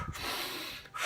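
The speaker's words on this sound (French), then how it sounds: "en faisant des inspirations très puissantes et en expirant très vite" A person breathes forcefully during a rapid breathing exercise for concentration, a strong rushing inhale and fast exhale close to the mic with no talk.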